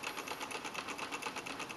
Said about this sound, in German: jetzt mache ich mal den Drucker an.